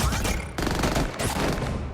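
Gunfire erupts in a rain-soaked scene from The Batman, a dense, loud fusillade of rapid shots with a brief break midway before the volley resumes, no voices heard.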